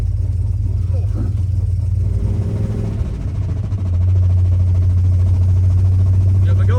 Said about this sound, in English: if I go a certain speed, the exhaust gets louder than the drive shaft rubbing